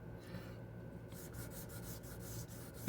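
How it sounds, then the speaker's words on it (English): Sandpaper is rubbed by hand over wet paint in a steady, soft scrubbing rasp with faint rhythmic strokes, quiet and close, without any talk. "Let the sandpaper do the work"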